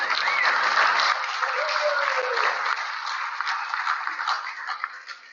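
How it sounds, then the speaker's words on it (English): An audience at a lake association's annual meeting applauds its presenters, a dense, steady wash of clapping that holds for about five seconds before thinning slightly at the end. "one last round of applause for our presenters for putting on a great and informative program"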